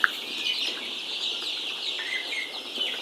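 Sonali chickens in a poultry farm give off a dense, steady chorus of high chirping and clucking that carries on continuously through the moment.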